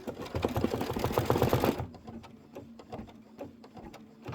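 An embroidery machine stitches a tack-down on a boot buckle with rapid, loud needle clatter for about two seconds, then stops and leaves quieter scattered clicks and mechanical ticks.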